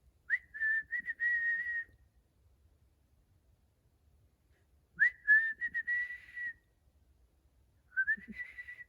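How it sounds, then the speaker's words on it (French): A man whistles three short tuneful phrases, each a few wavering notes, separated by pauses of silence. "il dégagea et il se mit à siffler"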